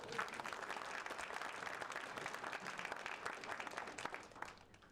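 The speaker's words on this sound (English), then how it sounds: "can we give a huge round of applause to the Catalyst team and to Capital Factory for having us here today?" Audience applause at the Texas Health Catalyst Roundup & Rodeo event at Capital Factory: a dense, steady wash of many hands clapping together, loud and sustained throughout before tapering slightly at the very end.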